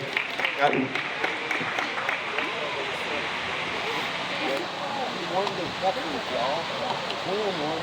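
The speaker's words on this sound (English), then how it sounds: "let's give him a round of applause for him being here" Applause from a room of kids at a school gathering, a soft wash of clapping heard beneath overlapping voices and chatter.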